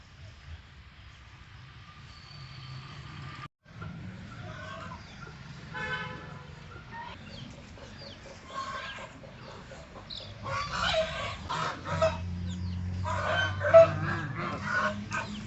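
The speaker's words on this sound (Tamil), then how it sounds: "அழகாக கோழிகள், வாத்துகளை கூட வளர்க்குறாங்க." Chickens kept at a house in the Andaman and Nicobar Islands cluck and call faintly around a yard, with soft outdoor background noise and scattered bird sounds that grow somewhat louder toward the end.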